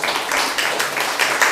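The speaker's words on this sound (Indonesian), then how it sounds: "Jangan tanggung-tanggung, kalau tepuk tangan aja." An audience in a church service claps hands in a steady, dense patter, fairly close and continuous with no talk over it.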